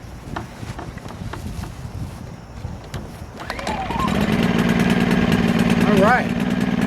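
A WEN 2000 inverter generator is pull-started, catching partway through and settling into a steady, loud engine drone that runs through to the end, with faint voices in the background.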